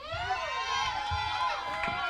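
Church congregation screaming and shouting together, a loud sustained crowd roar with overlapping high voices throughout.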